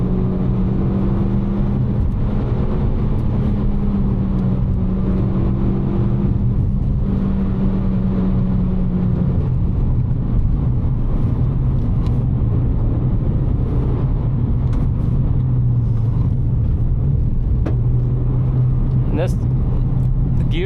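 A Suzuki Swift Sport drives along a back road in third gear, a steady loud engine drone with road rumble throughout, speech over it.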